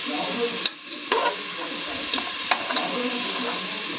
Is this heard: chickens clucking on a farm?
no